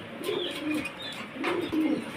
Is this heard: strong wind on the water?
no